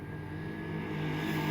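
A JLB 21101 RC car runs at full throttle, giving a loud, steady high-pitched motor whine that holds constant and swells slightly toward the end.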